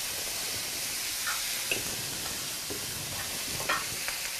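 Noodles are stirred with sauces in a hot pan at a Japanese food festival, a steady sizzling hiss broken by scraping clicks of the utensil.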